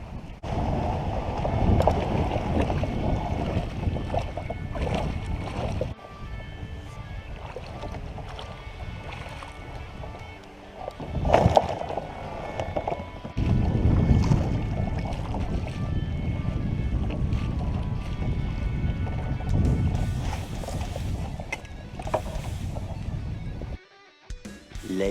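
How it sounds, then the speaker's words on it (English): Kayak wading out and paddling on Lake Thunderbird for fishing: steady water swishing and splashing with wind buffeting the microphone, continuous and fairly loud, a brief quiet gap near the end. "we're gonna take this kayak, wade it out there and get in it and get on some fishing"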